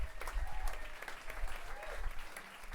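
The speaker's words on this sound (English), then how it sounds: "Clap it for Julie." Sustained applause from a crowd at a book launch party, steady dense clapping at moderate distance with a faint voice briefly heard over it.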